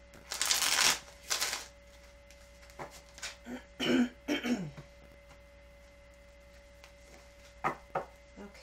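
Tarot deck shuffled by hand in a few brisk riffling bursts near the start, then softer card taps and handling sounds, close and quiet with no talking.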